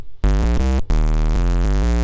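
A sine wave pushed through heavy distortion becomes a thick, buzzing, harmonically rich synth tone, loud and sustained, stepping through several pitches after a brief gap.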